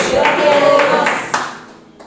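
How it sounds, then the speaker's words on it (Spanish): A church congregation breaks into a brief burst of clapping mixed with voices, loud and close at first, then thinning out and fading within about two seconds. "¿Cuántos pueden dar un fuerte aplauso a Dios?"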